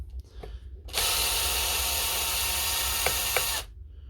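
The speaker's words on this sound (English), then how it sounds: "there's just 4 screws in the front here, and you pull them out with a normal Phillips" A power tool whirs near a Makita angle grinder being opened for repair with a Phillips screwdriver: a steady, loud whine for under three seconds, with quiet clicks and handling before and after.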